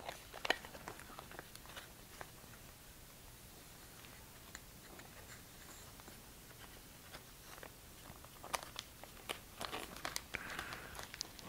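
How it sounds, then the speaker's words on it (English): A razor blade slices covering film along the wooden frame of a Hangar 9 CAP 232 model airplane, producing faint, close crinkling and scratchy scraping with scattered small ticks, growing busier toward the end. "take that razor blade right on the edge there and just lay it on top of the wood nice and flat and just follow"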